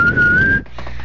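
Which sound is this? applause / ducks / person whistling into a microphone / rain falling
person whistling into a microphone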